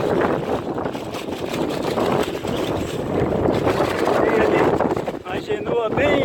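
Strong wind of over 30 knots roars around a sailboat on a lake in Brasília, a loud, continuous buffeting gust noise with heavy rushing and flutter on the microphone throughout.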